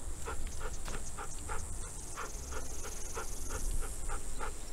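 A dog in The Walking Dead video game pants in quick, steady, rhythmic breaths that run without pause over a low game-world ambience.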